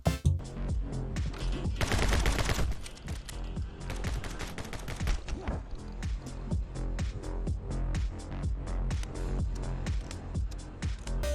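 Rapid, dense gunfire from the action game My Friend Pedro: loud bursts of shots that blur into a sustained volley for the first few seconds, then settle into a steady rhythm of distinct shots through to the end, with no talk.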